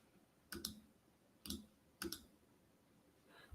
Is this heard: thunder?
no